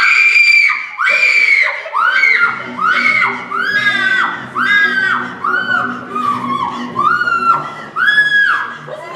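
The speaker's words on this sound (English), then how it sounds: "Who's screaming?" A woman screams repeatedly in loud, piercing, falling cries, about a dozen shrill bursts in a steady rhythm with brief gaps between them, close and dominant over faint background noise.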